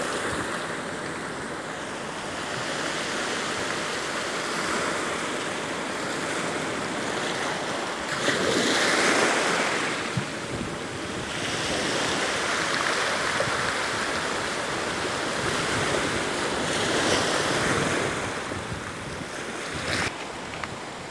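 Ocean surf at Pedalen beach in Kebumen on Java's south coast, a continuous roar of breaking waves with wind, swelling in broad surges over about twenty seconds, with no talk.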